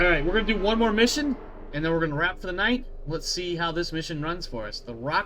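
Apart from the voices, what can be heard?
None of the usual background noises is heard.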